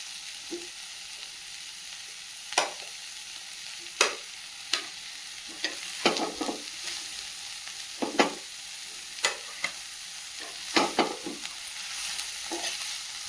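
Mushrooms stir-fry in a hot pan, a steady sizzle punctuated by repeated scraping strokes and knocks of the spatula at an uneven rhythm, close and clear.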